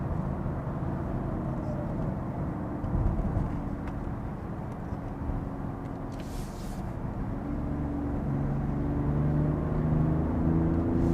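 Genesis GV80 SUV diesel engine accelerating, a steady low droning hum and rising whir heard from inside the cabin, continuous and moderately loud.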